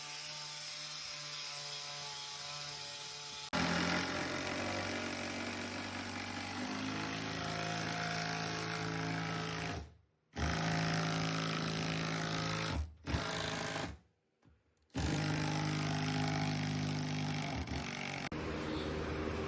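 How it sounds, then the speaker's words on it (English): A power tool smooths the sharp edges of a metal bracket for mounting an engine on a jet ski fishing build, a steady buzzing grind with brief stops and restarts, close and fairly loud. "right now we are just smoothing down the edges of the bracket so it's not as sharp"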